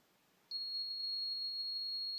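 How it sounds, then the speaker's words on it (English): A steady high-pitched electronic buzzer tone from an ignition timing setup tester for a model engine switches on abruptly and holds constant, loud and close, with no talking. "we just want to pass the magnets until the green or the buzzer goes off"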